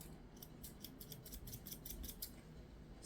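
Small embroidery scissors snip thread in a quick run of crisp, close clicks, about a dozen cuts in steady rhythm, with no voices.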